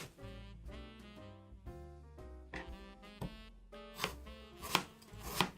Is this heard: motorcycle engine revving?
no